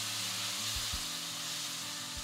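Water poured onto Maggi masala spices in a hot pan, giving a steady broadband sizzle and hiss that holds throughout with a few low thumps.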